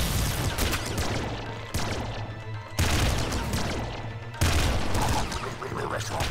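A heavy assault rifle fires in the video game Nuclear Throne, producing dense, rapid, loud gunfire bursts with crashing impacts, broken by a few abrupt shifts in intensity.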